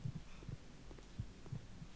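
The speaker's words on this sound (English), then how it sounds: "My guy's freaking out, you can hear his heartbeat." A frightened character's heartbeat in a horror video game: soft, low double thumps repeating at a quick, steady pace over a faint hum, with no voices.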